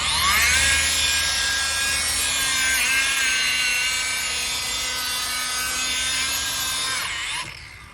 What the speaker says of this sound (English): We're just gonna loosen everything up with the buffer.